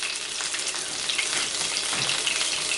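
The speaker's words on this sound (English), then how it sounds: "2 chicken portions in the frying pan" Two chicken portions frying in a frying pan, giving a steady, close, bright sizzle with faint crackles throughout.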